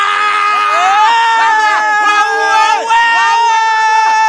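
A crowd of people screams loudly and continuously in a TV ad, with shrill overlapping wails rising and falling throughout, briefly dipping near the end.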